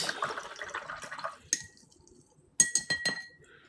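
A pen nib is rinsed in a glass of water, with liquid swishing at first, then a pause and a few sharp clinks against the glass, close and fairly quiet.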